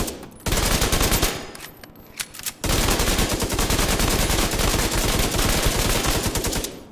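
Bursts of rapid automatic fire from an M1928 Tommy gun in the shooter game The Division 2, a loud, dense submachine-gun rattle that drops out briefly before resuming in a long, continuous stream.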